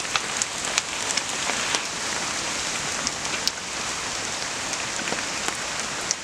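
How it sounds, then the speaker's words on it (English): Hail falls during a thunderstorm at a bushcraft woodland shelter as a dense, hissing patter, with scattered sharp ticks of stones striking nearby surfaces. "It's actually hailing now."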